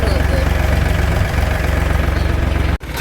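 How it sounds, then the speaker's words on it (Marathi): A tractor with a loose silencer idles loudly nearby, giving a steady, rapid low throb with a rattling edge. It dips abruptly for a moment near the end. "ते बघा ट्रॅक्टर सायलेन्सर संग काय झाले,"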